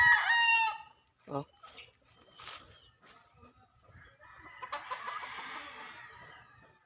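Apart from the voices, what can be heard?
Kugon Black rooster crowing and clucking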